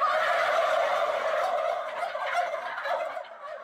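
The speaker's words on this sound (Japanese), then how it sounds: "ここでは七面鳥200羽が飼育されています。" Dense chorus of turkeys gobbling inside a poultry house of about 200 birds in Monzen, Wajima, Ishikawa, loud and continuous throughout with many overlapping calls.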